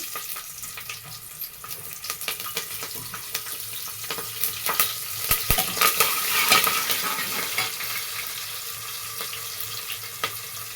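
Curry leaves and green chilies, added with mustard seeds, crackle and sizzle steadily in hot oil in a pan for moong dal khichdi, with scattered spatter pops and light stirring clinks throughout, close and fairly loud.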